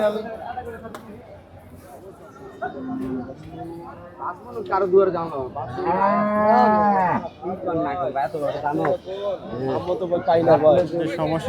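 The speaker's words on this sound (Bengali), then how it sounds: "দেখতে পাচ্ছেন ভাইয়েরও কিছু গরু এখানে আছে, দেশি গরু" Native and crossbred cattle at the Ashulia cattle market low with long, loud, drawn-out moos, several overlapping nearby, while people talk and chatter around them.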